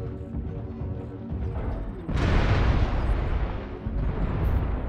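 Incoming missile exploding in a video game: a sudden loud, close blast about midway that crashes and rumbles on, followed by a second, softer burst near the end, after a lower rumbling lead-in.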